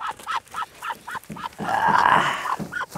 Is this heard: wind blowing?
no